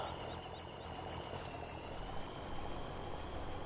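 A tractor engine in Farming Simulator 2017 idles and hums steadily, a low continuous drone with a faint high whine riding over it, heard alone with no talk.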